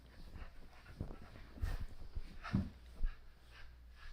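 A dog whimpers softly at home during play with a toy, faint whines and snuffling breaths scattered through the background with a few soft thumps, no speech over it.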